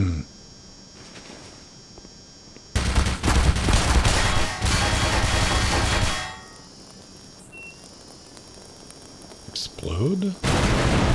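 Bursts of gunfire and combat noise in the video game Black Mesa, loud and dense for a few seconds then dropping away, with a brief flare near the end.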